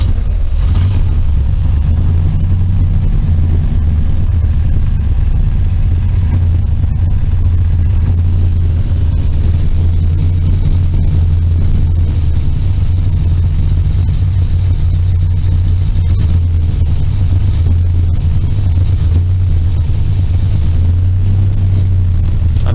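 A 1972 Chevy truck engine idles steadily after a cold start, giving a loud, continuous low rumble that stays close and holds steady throughout, with no talking.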